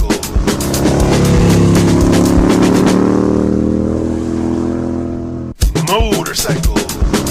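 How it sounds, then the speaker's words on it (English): A motorcycle engine revs hard and loud, climbing in pitch as it accelerates, then cuts off abruptly before a second rougher burst of revving. "Motorcycle."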